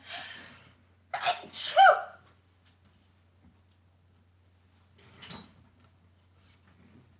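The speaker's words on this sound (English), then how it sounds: "I'm going to sneeze again." A single sharp sneeze with a quick inhale before it, close to the listener, followed by quiet and a softer rustle.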